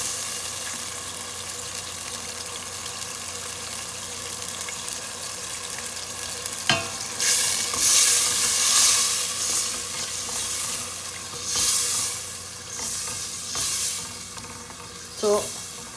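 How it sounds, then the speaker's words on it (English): Tomato puree hits hot olive oil with blended onion, and a loud crackling sizzle bursts out partway through, then surges and fades in waves as the pan is stirred, close up and with no talking. "I'm adding my tomato puree."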